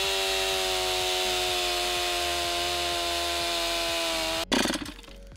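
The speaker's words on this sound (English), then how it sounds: "So we're gonna start this chainsaw." An 80cc chainsaw with a 20-inch bar runs at a steady, loud whine cutting wood, then its tone abruptly drops and turns rough and sputtery near the end.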